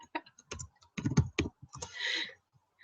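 Bursts of computer keyboard typing, a quick run of clicks and then a brief tapping flurry, fairly close and moderately loud, with no talking over it.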